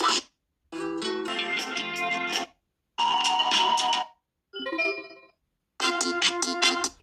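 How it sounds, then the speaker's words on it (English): A FreeYond M6 smartphone ringtone plays at maximum volume, a loud melodic tone in repeating bursts of about a second or two, separated by short silences. "The volume is now maximum."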